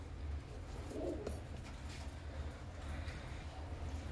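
A breeding pigeon gives soft, low coos close by, a brief murmuring call over a steady rumble of background noise.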